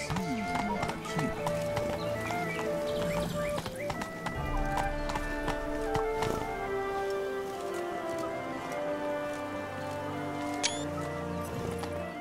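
Horse hooves clip-clop steadily in The Witcher 3, set in Toussaint, a continuous rhythmic trot close by under layered game music, with a brief whinny near the end.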